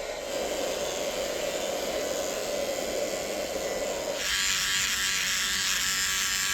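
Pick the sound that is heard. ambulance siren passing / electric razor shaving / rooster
electric razor shaving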